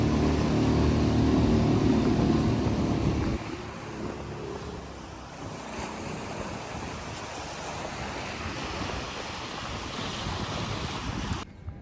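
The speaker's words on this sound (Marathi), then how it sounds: "एकदम फुल स्पीड मध्ये एकदम मोठी लाट आहे आपल्या मागे, तीच घेऊन चाललोय डायरेक्ट." A fishing boat runs at full speed, riding a big wave toward shore, with loud churning surf and wind rushing past, a heavier low rumble at first easing into steady hissing spray.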